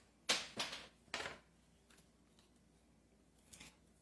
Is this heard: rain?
no